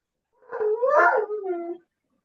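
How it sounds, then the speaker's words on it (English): A dog gives one drawn-out, wavering howl that slides into a whimpering whine, close and clear, lasting about a second and a half in an otherwise quiet setting. "Does she have new dogs?"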